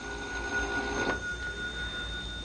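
A telephone rings in an old science-fiction film, a steady electronic ring with a brighter burst near the middle, heard alone against a constant background hum.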